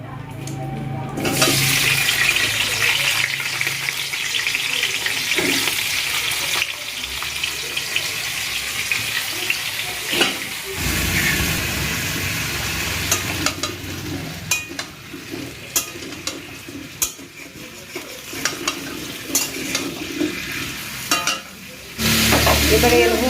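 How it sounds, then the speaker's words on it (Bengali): Raw potatoes fry in hot oil with a loud, continuous bubbling sizzle that swells and fades, punctuated by scraping and clinking as they are stirred, with a brief drop near the end. "আলুটা আমার সিদ্ধ করা নেই আমি ওই এমনিতেই তেলে দিয়েই এটাকে ভেজে নেবো"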